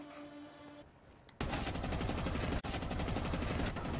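Rapid gunfire from a Rainbow Six Siege match bursts in suddenly after a quieter opening and keeps going as a loud, sustained automatic volley, broken by one brief gap.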